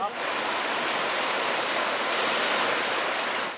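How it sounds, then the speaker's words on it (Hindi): The Yamuna river in flood at night roars as a dense, steady rush of water, loud and continuous throughout, with no pauses or breaks. "आज मैं आपको यमुना नदी की आवाज सुनाऊंगा जो उसका रुद्र रूप है।"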